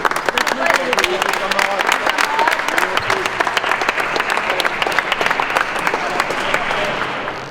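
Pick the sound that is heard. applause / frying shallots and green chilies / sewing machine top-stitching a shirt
applause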